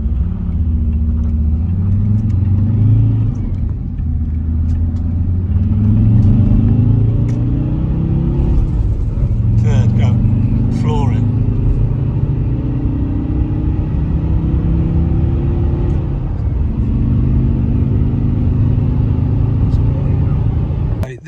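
A VW T4 van with an underboost fault and PP1 injectors pulls hard in third gear, its engine a steady loud rumble rising in pitch as it accelerates, with a voice talking over it.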